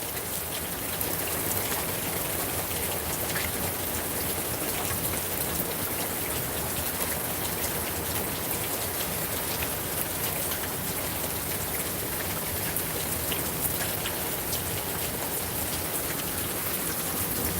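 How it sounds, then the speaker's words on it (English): Steady rain falls across a wide area, a dense continuous hiss of drops striking surfaces, even and unbroken from start to finish with no talking over it. "I'm watching the rain fall."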